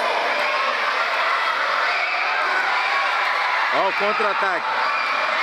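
A school sports crowd at a Jandaia do Sul school games competition cheers for Monteiro Lobato, a steady roar of many voices filling the gym, with a commentator talking over it and a brief whistle-like tone near the end.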